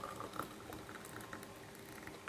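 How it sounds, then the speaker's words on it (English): Boiling water is poured over paprika in a cup, a faint close bubbling and pattering trickle that runs steadily for a couple of seconds with no talking. "Let's pour some boiling water on top of it."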